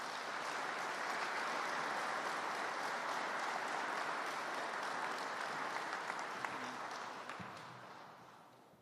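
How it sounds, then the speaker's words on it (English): A round of audience applause at a Veterans Day commemoration with the Massachusetts governor, sustained even clapping heard from a distance that tapers off toward the end. "Let's give another round of applause"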